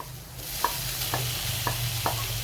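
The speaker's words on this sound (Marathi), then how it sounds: "आता आपण टोमॅटो टाकून घेऊ," Tomatoes are stir-fried in a pan with capsicum and onion: a steady, soft sizzle of frying with a few sharp spatula taps at regular intervals, and no one talking.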